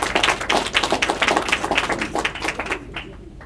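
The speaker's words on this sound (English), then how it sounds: "Give her another round of applause" Audience at a January 2020 school district board meeting applauds a student's spoken word performance, a dense burst of close handclaps that thins out and fades near the end.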